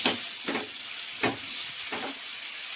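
A capsicum and tomato chutney is stirred in a pan on a switched-off stove, four rhythmic scraping strokes over a constant soft hiss of residual sizzle.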